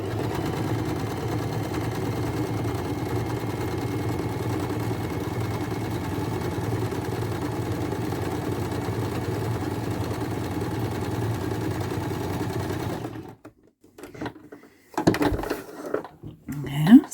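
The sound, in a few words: sewing machine stitching with a fringe foot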